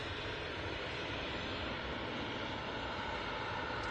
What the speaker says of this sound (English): And KLM E2's just touched down.